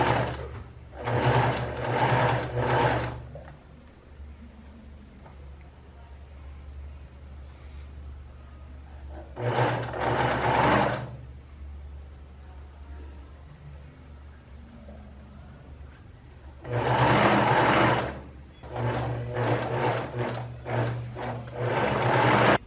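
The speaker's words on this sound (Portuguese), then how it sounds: "passo uma costura bem na bordinha" A sewing machine stitches along the edge of a blouse cuff in three runs of steady, fast mechanical whirring, close and clear, separated by quiet pauses with faint handling.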